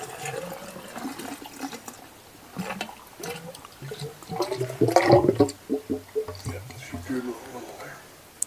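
Water pouring and dribbling into the radiator of a 1967 Chevelle with an LS engine swap, splashing liquid sounds rising midway under frequent nearby talk.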